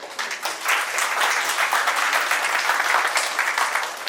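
An award function audience claps steadily for absent honourees, a moderately loud, even wash of many hands that holds throughout without speech over it.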